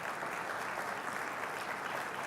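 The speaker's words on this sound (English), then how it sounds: "I expect your applause to be louder than that." An audience applauds at a conference talk on intrapreneurship, giving steady, dense clapping that carries on evenly throughout.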